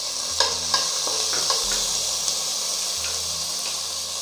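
Tomatoes sautéing in a pan for a homemade soup, a steady close sizzle with a few sharp clinks and stirring scrapes, no talk.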